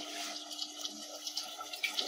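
Water runs steadily from a kitchen tap as a tehari meal is being prepared, a continuous close hiss with small splashing bursts throughout, no voices over it.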